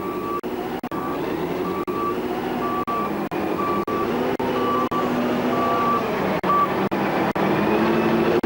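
A Caterpillar 988 wheel loader works at a quarry, its engine droning loud and steady while a reversing alarm beeps at regular intervals and sharp clicks recur.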